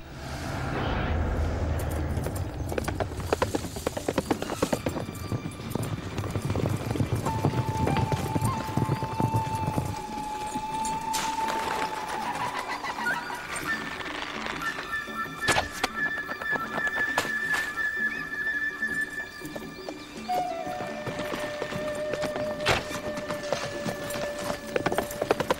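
Horse hooves clip-clopping at a fast gallop with neighs and whinnies, set in a documentary drama about a Japanese shogun, loud and continuous over sweeping music with tonal swells throughout.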